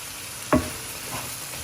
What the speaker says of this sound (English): I will add these fried okra